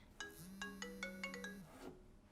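Melodic telephone ringtone plays a short run of bright electronic tones, a few beeps over a sustained note, then stops, faint and alone with no talk.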